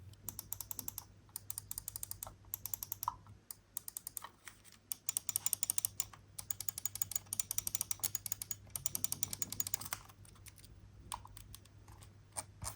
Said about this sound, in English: You could hear that button sound is fairly normal for Omron 20M switches, which are supposed to be less prone to double clicking, no rattling of buttons